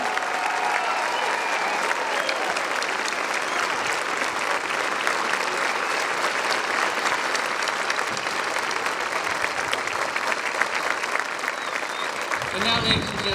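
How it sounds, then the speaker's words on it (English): A large crowd at the D-Day 75th anniversary ceremony at the American Cemetery at Omaha Beach applauds World War II veterans, with loud, dense, sustained clapping that runs unbroken for about thirteen seconds. "How about a big round of applause for our World War II veterans"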